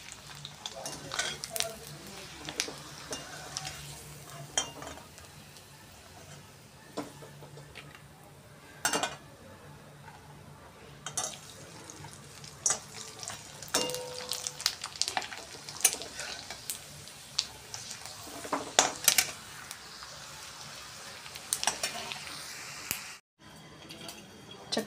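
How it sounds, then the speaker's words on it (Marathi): Sabudana potato chakli frying in hot oil, a steady sizzle broken by clinks of a utensil against the pan and occasional stirring, close by, with brief talk. "मी थोड्याशा चकल्या या ठिकाणी तळून घेत आहे।"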